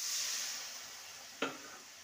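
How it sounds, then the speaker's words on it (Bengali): Masala spice paste with long beans sizzles steadily in a pan, a soft continuous frying hiss broken by one brief clatter of stirring near the end. "ভালো করে মশলাটা কষিয়ে নেব"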